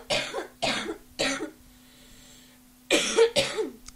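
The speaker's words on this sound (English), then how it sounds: "It is just a cough." Three harsh coughs in quick succession, a pause, then two more hacking coughs, close and loud.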